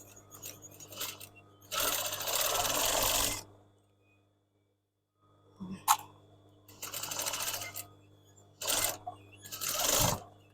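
Sewing machine stitching the seam of a fabric gift bag in three loud bursts of a few seconds each, separated by pauses and small handling clicks.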